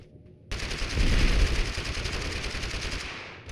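Gunfire in the video game TABG: a sudden dense burst of rapid automatic shots that runs continuously for about three seconds before cutting off, loud and close.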